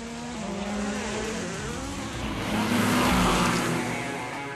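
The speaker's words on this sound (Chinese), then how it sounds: "享受冰雪赛车的乐趣" Rally race car running over ice and snow at Changbai Mountain on narrow tyres, its engine note rising and shifting steadily and growing louder toward the end, with no talk.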